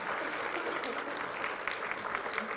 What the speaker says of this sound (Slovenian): En aplavz za prvi razred